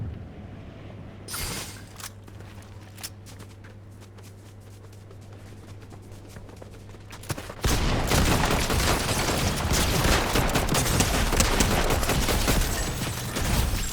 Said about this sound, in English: The Twin Mag. Twin Mag's a good SMG. Shoot quickly.